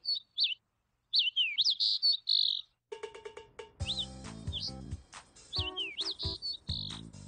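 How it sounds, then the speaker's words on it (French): A bird in its nest gives repeated high, whistling calls in short bursts, with a denser stretch of layered tonal sound and low hum in the middle, fairly close and clear. "vous entendez ce chant? L'oiseau est toujours dans son nid."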